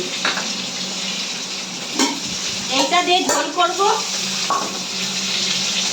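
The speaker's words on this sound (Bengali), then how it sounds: "একটা একটা করে ভেজে নিই।" Fish frying one piece at a time in a pan, a loud steady sizzle with bubbling bursts and a few clatters of stirring, while someone speaks briefly over it.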